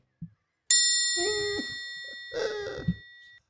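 A bell is struck twice, each strike ringing out bright and sustained, with a short low knock before the first and the tone decaying slowly after each strike.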